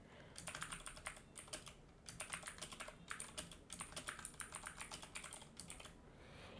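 Rapid bursts of typing on a computer keyboard, clicking keystrokes in uneven runs with short pauses, close and clear with no talking.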